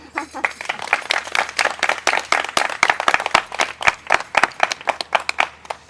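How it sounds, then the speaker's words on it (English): Wedding guests clap for the bride at a Hindu wedding ceremony, a loose, uneven round of applause from a modest group with distinct individual hand claps standing out close by. "give Devika a hearty round of applause"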